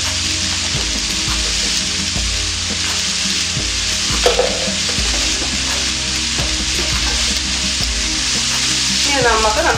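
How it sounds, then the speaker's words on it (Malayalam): Sliced onions with a pinch of salt sauté hard in a pan for a coconut-milk chicken curry, a loud continuous sizzle broken by scraping stirs and clinks, close up with no talking. "ഇനി നമുക്ക് നന്നായി വഴട്ടിയെടുക്കാം."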